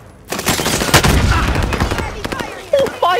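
A stun grenade goes off in a shooter video game among loud gunfire and explosive bursts, a dense rapid barrage close up, with a voice shouting briefly near the end.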